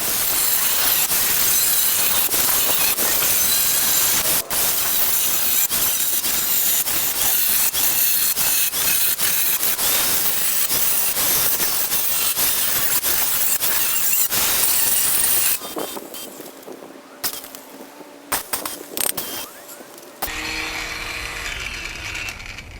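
Harsh, loud angle grinder cutting a rear window for a 2013 Arctic Cat Wildcat 1000 X, a continuous screech with crackling bursts that cuts out after about fifteen seconds, leaving sparse clatter and faint noises.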